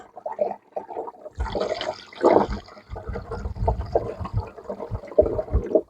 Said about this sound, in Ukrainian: І приблизно половину я виливаю у прискоч.